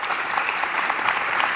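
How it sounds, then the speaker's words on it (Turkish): Dense, steady audience applause fills a hall at the Brand & Sport Summit 2019, loud and close with no pauses across the short stretch. "Buradan da onlara çok büyük bir alkış istiyorum aslında."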